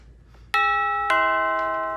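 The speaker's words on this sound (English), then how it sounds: "That's our doorbell." A doorbell rings twice in clear, bright electronic tones, the second strike about half a second after the first, each note ringing out and slowly fading in a quiet room during a stage show.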